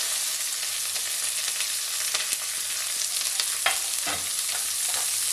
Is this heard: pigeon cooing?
no